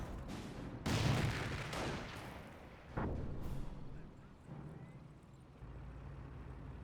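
German Grenadiers fire rifles in a Company of Heroes battle, a few sharp reports spaced a couple of seconds apart, fairly distant and muffled, with battlefield rumble and a voice faintly talking underneath.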